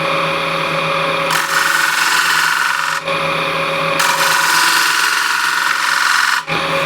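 A wood lathe spinning while a tool cuts a small chamfer in a turned wooden apple, a loud steady whir with a scraping, rasping texture that starts and stops in distinct passes, no voices.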